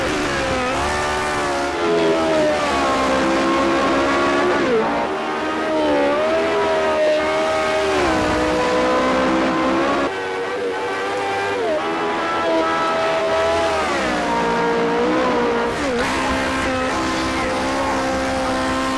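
A 1967 Lotus 49 race car in the Project CARS 2 racing game lapping the Nordschleife, its engine note loud and continuous with rising and falling revs through gear changes and corners, no talk over it.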